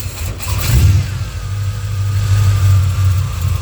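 A truck engine idles low and steady, with a brief rev early on, close and continuous throughout; the truck's alternator has failed.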